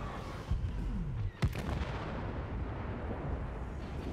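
Blaster gunfire in a Star Wars space shooter game: several sharp shots cut through a steady low rumble of engines and combat, with a bright zap around the middle, moderately loud and without talk.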